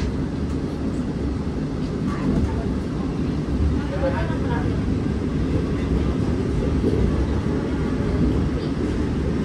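KA Argo Dwipangga executive express train passing straight through Kebumen station, a steady loud low rumble of wheels and carriage noise throughout, heard from inside the train.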